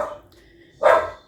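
A pet dog gives one loud, close bark indoors after a faint earlier yip, the bark standing out clearly against quiet background.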